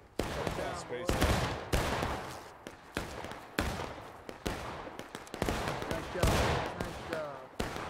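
Rapid bursts of gunfire from a group of soldiers firing independently toward rocks, loud and close, with repeated overlapping shots and cracks throughout and shouted commands mixed in.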